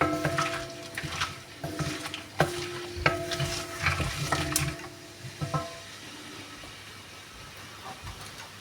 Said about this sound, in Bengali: তো পেঁয়াজটাকে আমি গোল্ডেন কালার করে ভেজে নেব।